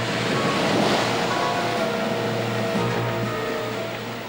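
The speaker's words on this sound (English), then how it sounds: "Waves crash against the coast with enough energy to turn over cars and destroy buildings." Ocean waves crash against a coast in a steady, loud roar of surf with wind noise. The wash sounds close and continuous, then eases slightly toward the end.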